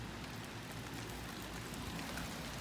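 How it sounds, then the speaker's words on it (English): Rain starts to fall in a garden, making a faint, steady, even hiss of drops with no talking. "It is starting to rain."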